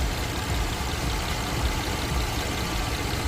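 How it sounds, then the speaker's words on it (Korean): A 2.4-litre car engine with 110,000 km on it idles steadily with a low, even rumble and constant hum, no revving, and no voices. "11만 킬로 주행한 엔진 사운드 한번 들어보시기 바랍니다"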